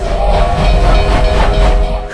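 A train in an animated movie, a loud continuous rumble with a steady mechanical hum and faint rhythmic rolling, close and alone without speech.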